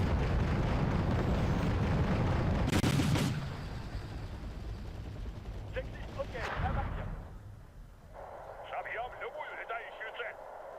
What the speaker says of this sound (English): The heavy machine guns, Shilkas and Kub surface-to-air missile launcher systems should be able to deal with the enemy helos pretty comfortably.